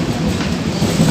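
A train rolls steadily past up close in Bangladesh, loud rumbling with a continuous clickety-clack of wheels on rails throughout the brief moment.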